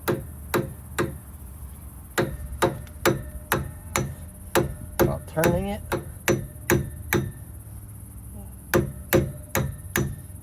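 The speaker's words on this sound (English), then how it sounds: "So you just real lightly go around it with a hammer." Sharp metallic hammer taps lightly drive a boat trailer hub cup into place in a steady rhythm, about two per second, close by, with a brief voice speaking in the middle.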